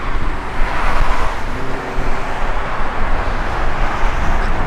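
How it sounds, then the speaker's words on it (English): Low, steady rumble of a 1969 Chevrolet Chevelle SS idling through a dual exhaust with an X pipe, close by and alone. "Good sounding pipes, dual exhaust system. I believe it's an X pipe as well."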